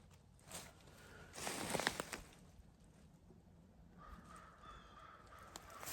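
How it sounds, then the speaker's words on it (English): Faint crows and ravens caw a few times in the distance over a quiet outdoor morning background near a deer. "A lot of crows and ravens in here this morning"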